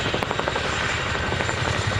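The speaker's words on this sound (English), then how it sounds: "We'll run the aircraft straight onto the ground like this." An RAF Boeing Chinook twin-rotor helicopter sets down on a runway at an airshow, its loud steady rotor thrum and engine roar filling the air without a break.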